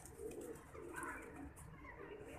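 A pigeon coos softly in low, rolling murmurs, fairly close, over a faint background hiss.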